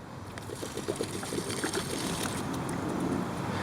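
Water pours and trickles out of a car headlight housing, a faint continuous splashing dribble close by for a few seconds.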